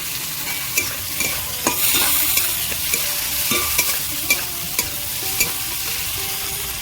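Green chilies and chopped tomato fry in a hot pan for a Bengali non-veg thali, giving a steady close sizzle broken by frequent sharp spatula clicks and scrapes, with no talking.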